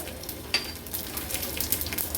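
Cumin seeds sizzling in hot ghee for a tempering alongside garlic, green chili, dried red chili and mustard seeds, a soft continuous frying crackle with a brief sharper pop, heard close and without talk.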